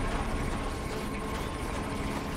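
In Batman: Arkham Origins, a helicopter is rewound back together, making a steady, loud, dense mechanical whirring roar that holds without a break from start to finish.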